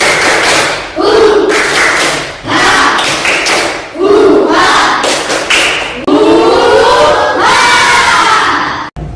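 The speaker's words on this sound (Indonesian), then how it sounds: "1, 2, 3, tepuk semangat." A class of schoolchildren in a classroom claps a rhythmic spirit chant together, loud and close, with bursts of claps and shouted voices in patterned groups that end in a sharp final clap.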